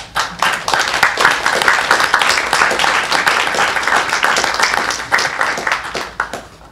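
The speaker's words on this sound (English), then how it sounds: "a round of applause for you" Applause from the audience at a Hackensack city council meeting, a sustained dense burst of many people clapping that swells, holds steady for several seconds and then tapers off toward the end, loud and close.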